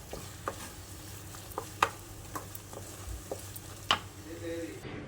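A spoon scrapes and taps against a pan as mango coconut chutney is mixed through a hot tempering, with a faint sizzle beneath and occasional sharp clicks, close and quiet.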